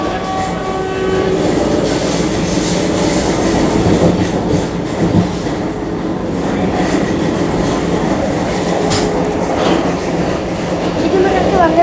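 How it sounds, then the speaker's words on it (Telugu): A Vande Bharat Express train rushes past nearby with a loud, continuous rumble and rhythmic wheel clatter, and a horn sounds briefly. A voice speaks faintly beneath the noise. "ఇది మనకు వందే భారత్ ఎక్స్ప్రెస్ గాయస్."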